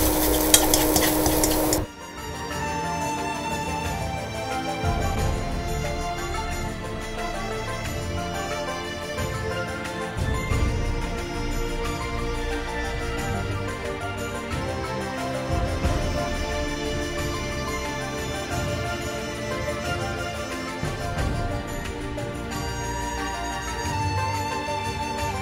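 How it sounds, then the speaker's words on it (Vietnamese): Butterfish sizzles and is stirred in a pan with garlic and shallots, a continuous frying crackle broken by repeated scraping and stirring strokes, close and steady throughout. "Còn tỏi với hành tím còn lại thì mình sẽ xào săn với con cá cho nó bớt cái mùi tanh"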